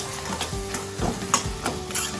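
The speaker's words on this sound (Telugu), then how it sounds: "కర్రీ అంతా కలిసేలా కలుపుకోవాలి." Ridge gourd prawn curry being stirred in a pan, a close continuous sizzle with soft rhythmic scraping strokes of a spoon, roughly one every half second.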